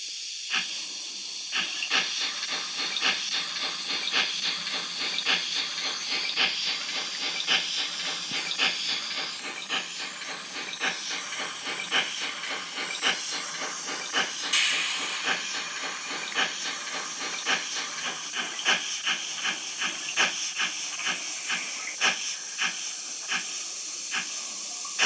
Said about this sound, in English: I'm going to back this train up.